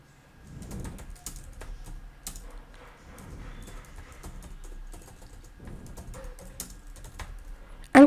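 Someone types a text prompt on a computer keyboard, producing a close run of irregular key clicks and taps with brief pauses. A sharper clack comes at the end, and no one speaks.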